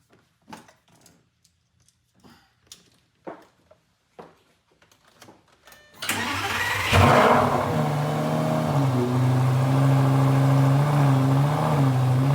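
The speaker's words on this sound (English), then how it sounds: "Now we're going to turn the engine on for 1 minute." A 2007 Lamborghini Gallardo Nera engine starts after a stretch of quiet talking, then settles into a loud, steady idle with a deep droning hum.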